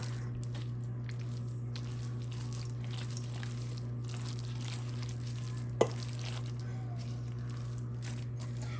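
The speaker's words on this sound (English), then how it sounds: "I'm gonna take my wooden spoon that I just cooked my sausage with, and I'm just gonna stir it up." A wooden spoon stirs a hash brown casserole mixture in a kitchen: soft, faint scraping and stirring under a steady low hum, with one brief sharp knock partway through.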